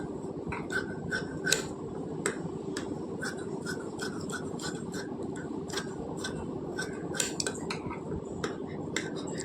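Scissors cut crosswise through blouse fabric in a rapid series of crisp snips and rustles, close up, over a steady background hum. No speech.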